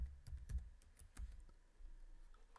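Quiet typing on a computer keyboard, a short burst of light clicking keystrokes, close but faint, with no talk.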